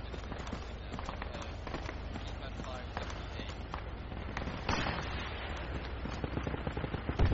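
Gunfire in the military shooter Project Reality, bursts of distant and mid-range shots and automatic fire crackling through a busy scene, with voices talking over the combat.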